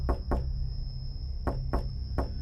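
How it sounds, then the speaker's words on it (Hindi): Heavy pounding on a door during a dark, stormy night in a Hindi horror cartoon: two quick loud thuds, a pause, then three more forceful blows, close and booming over a steady tone. "अगले ही पल दरवाजा किसी ने जोर से पीटना शुरू कर दिया"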